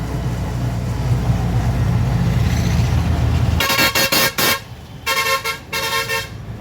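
A loud truck horn blares in several long honks close by, following steady road and engine rumble, on Gondal Road near Rajkot.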